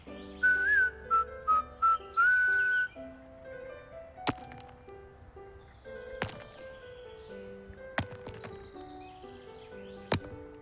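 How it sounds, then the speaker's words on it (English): In the Minecraft game, a cheerful whistled tune plays out in short melodic phrases alongside plucked music notes, with sharp metallic pickaxe-like clinks striking at intervals under the melody. "With 7 little pickaxes, they worked tirelessly all day while whistling cheerfully."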